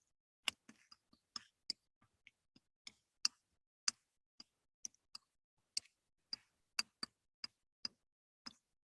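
A man imitates clicking with his mouth, producing a series of sharp, isolated tongue clicks in an irregular tick-tock rhythm, close and crisp against near silence, about twenty clicks in all.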